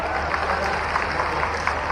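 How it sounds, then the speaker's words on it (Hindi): Crowd at a public gathering claps steadily for Mohan ji, a dense continuous patter of many hands without a break. "एक बार जोरदार ताली मोहन जी के लिए भाई।"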